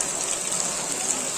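Steady rain pours down outdoors during a Ganesh festival pandal visit in Vashi, a dense continuous hiss with no breaks, loud and close throughout.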